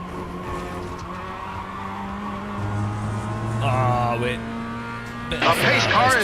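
In a racing video game, a pace car skids out of control, its tires squealing over a steady engine drone, and a sharp burst of screeching near the end, with a voice talking beneath.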